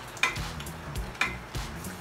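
An egg mixture simmers in a pan, giving a soft sizzle and bubbling with two sharp clinks of a utensil against the pan and a faint stirring scrape, close and alone.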